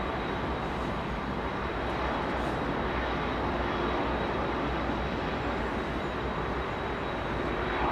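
A jet airliner waits on the runway at London Heathrow Airport, giving off a steady, continuous broadband roar of idling engines with a faint high whine, distant and unchanging, with no voices.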